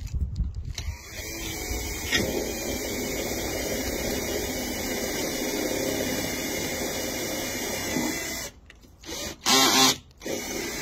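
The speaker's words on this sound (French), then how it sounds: "là, je perce de l'acier qui fait 5 mm d'épaisseur" A drill bores through 5 mm thick steel during bumper repair on a Fiat Ducato 1.9 TD camper van, a steady loud whirring grind that holds for about eight seconds, then stops and restarts in short bursts.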